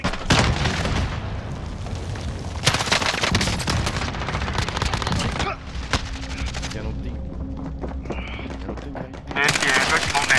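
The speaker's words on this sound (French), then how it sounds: "Je me fais tirer dessus." Rapid automatic gunfire and sharp single shots crackle in bursts during a Warzone video game match, loud and dense with pauses, while a player talks over the battle.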